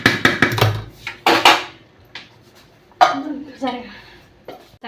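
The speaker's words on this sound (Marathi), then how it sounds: "आता मी कुकरला ढाकण लावतो" Metal clanks and clatters as a pressure cooker lid is handled and set in place over rice, several sharp knocks with brief pauses, a voice speaking between them.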